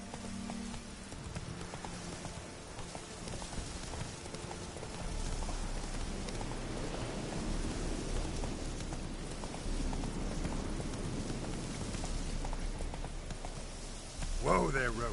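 Roach, a horse in The Witcher 3 video game, gallops with a steady run of clip-clopping hooves under a rain-like hiss, with game voices and talk over it throughout.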